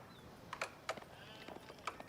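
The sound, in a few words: sheep bleating in a strategy video game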